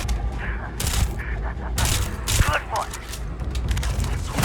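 Gunfire rattles in the video game Starfield, with bursts of sharp cracks and booming shots over a busy combat backdrop while someone talks through it.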